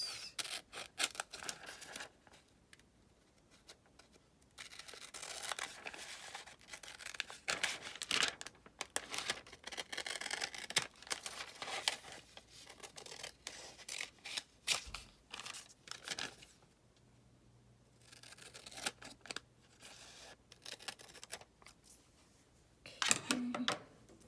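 Scissors trimming leftover card paper for handmade window cards, a run of close, crisp snips and rustles with short pauses between cuts, no talking.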